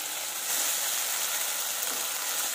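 Chopped tomato dropped into spice paste frying in a pan for a Bengali aloo potol malaikari, giving a steady, bright sizzle that swells slightly after the first half-second and holds evenly with no talk.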